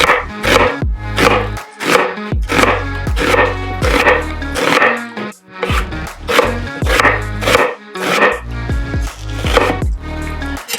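A knife julienning an onion on a cutting board, giving rapid, rhythmic bursts of close, crisp chopping taps with short pauses between runs.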